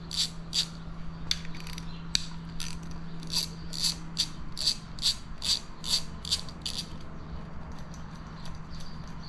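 A ratchet loosens 8mm valve cover bolts on an LS engine, giving rapid, crisp clicking in short rhythmic bursts that repeat several times over a faint steady hum.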